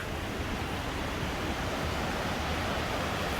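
Steady, dense roar of rushing water from South Falls in Silver Falls State Park, Oregon, constant and full without pauses, heard from a nearby bridge.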